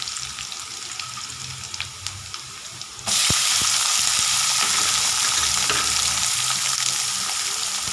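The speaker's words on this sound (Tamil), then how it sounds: "இப்போ வெங்காயம் போட்டுக்கலாம்." Sliced onions hit hot oil in a pan and burst into a loud, steady sizzle that jumps up abruptly midway and keeps hissing, after a quieter stretch of low frying.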